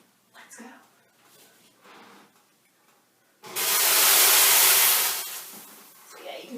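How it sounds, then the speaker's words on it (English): Water poured into a hot pan inside a 475-degree oven bursts into a loud, steady steam hiss lasting about two seconds before fading, with quieter rustling and handling sounds before it. "So yeah, you can see that huge wave of steam."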